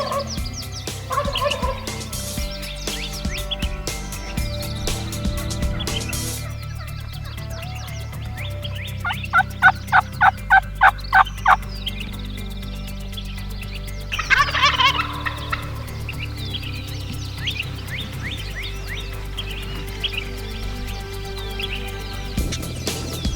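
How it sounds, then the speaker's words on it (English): Wild Gould's turkey in Mexico gobbling during a spring hunt, a few loud rapid rattling gobbles in bursts over outdoor ambience and calling sounds. "kept calling to him, got him to gobble a few times."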